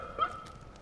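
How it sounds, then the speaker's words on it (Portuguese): A single short, high yip rings out faintly at a distance, the fox-terrier-like call attributed to a Tasmanian tiger, with a slight echo trailing into quiet. "do nada começou aquele misterioso yip-yip-yip, como um cachorro fox terrier, um yip-yip agudo e quase imediatamente um eco"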